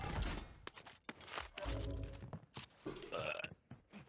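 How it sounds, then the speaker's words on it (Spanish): A loud, drawn-out belch from a young man gaming online, several gurgling pulses close to the mic over roughly four seconds with no other talking. "Un eructo, no son pedos."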